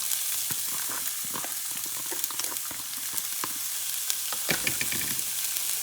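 Onions crackle and sizzle in extra virgin olive oil over high heat, a bright continuous hiss broken by sharp pops and stirring knocks, close up with no talking.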